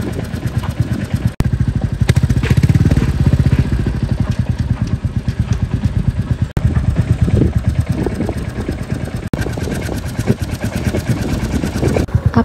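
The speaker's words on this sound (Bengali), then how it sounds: "আপনারা অনেকেই ইঞ্জিনের সাউন্ডটা শুনতে চেয়েছিলেন" Royal Enfield Classic 350 in Gunmetal Gray, its single-cylinder engine running steadily and loud up close for the whole stretch, with a fast, even thumping pulse and only brief dips.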